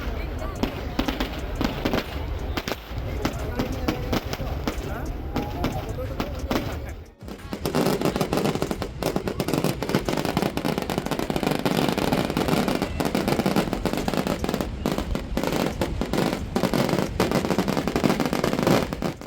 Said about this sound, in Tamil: First set of வெடிக்கட்டை பார்த்துடுவோமா?